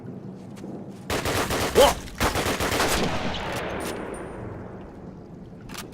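Rapid bursts of gunfire in Call of Duty set in World War II, loud close shots in quick volleys fading into a rumbling tail, with one short startled exclamation from a player.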